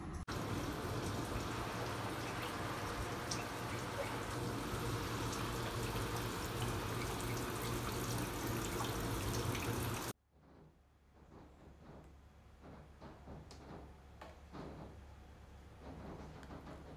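Floodwater pours steadily into a house in a loud, continuous rushing stream, then cuts off abruptly midway, leaving quieter scattered drips and trickles.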